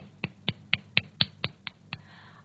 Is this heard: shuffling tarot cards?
no